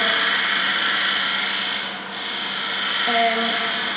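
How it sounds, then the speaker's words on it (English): A wood turning tool takes a light cut on a small lathe, a steady broadband scraping hiss held close and continuous, with a brief dip partway through and a faint tonal whine near the end. "I'm taking a light cut with this, just to try and relieve some of that tear out"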